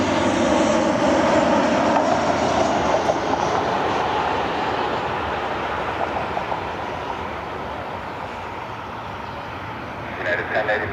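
A United airliner takes off at Cleveland Hopkins airport, its loud engine roar strongest at first and then slowly fading as the jet climbs away, a steady broadband rush with no talking.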